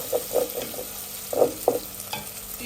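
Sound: cumin and spices frying in a pan

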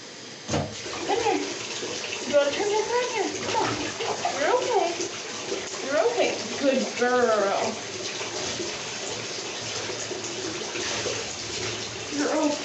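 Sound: water running from tap into bathtub

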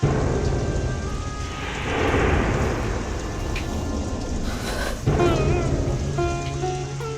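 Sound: heavy rain and thunder

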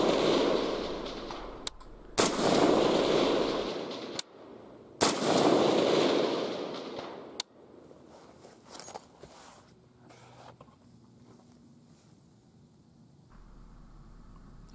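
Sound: rifle gunshot at a shooting range

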